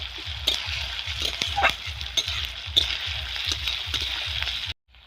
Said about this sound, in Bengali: এইবার দিয়ে দিচ্ছি আদা বাটা। সব কিছু ভালো করে ভেজে নিতে হবে।